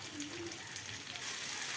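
Hot oil hisses softly in a pan pushed beside fried chicken pieces, a faint, brief, even sizzle with no talk.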